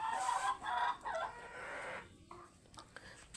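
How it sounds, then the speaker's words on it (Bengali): Chickens let loose outdoors cluck softly in a short, faint burst of farmyard calls. "তো মুরগিগুলো এখন সব বাহিরে ছেড়ে দেয়া"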